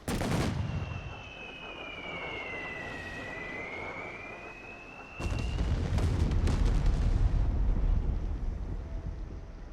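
A destroyer's naval bombardment in Company of Heroes 3 opens with a loud blast, then a long descending shell whistle, then a heavy, sustained roar of impacts and rumbling fire.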